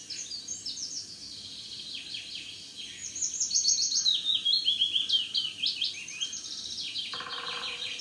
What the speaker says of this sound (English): Can you hear the bird?